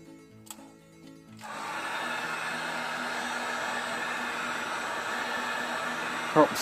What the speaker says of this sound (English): What I like to do is I hit it with a heat gun